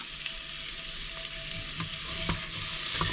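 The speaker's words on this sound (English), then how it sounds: "let this cook for a bit as the pepper starts to also soften and take on the flavors" Chopped peppers fry in a pan for American spaghetti sauce, a steady close sizzle with occasional soft stirring scrapes and no talking.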